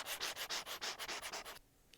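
A Lamy stylus fitted with a reMarkable nib scratches across a reMarkable tablet screen in quick strokes, about nine close rhythmic scrapes, then a pause and one sharp tap.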